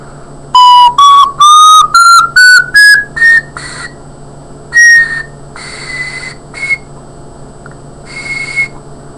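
Breathy, whistle-like notes from a broken, glued-together ocarina stepping upward one at a time, then a few scattered, wavering tones over a faint hiss.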